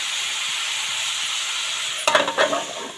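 Brinjal frying in a pan gives a steady close sizzle, then a few scraping stirs near the end stir up louder bursts of crackle.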